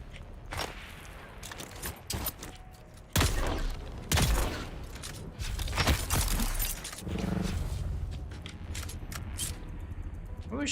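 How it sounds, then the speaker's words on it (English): Gunfire in the Dune: Awakening video game, a series of loud, sharp shots and bursts scattered irregularly across the span, some close and heavy, others trailing off amid rumbling game sound. "Who was shooting at me?"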